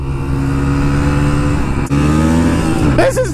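A motorcycle engine held at full throttle, loud and close, with a steady droning roar and a brief dip near the middle before it climbs again.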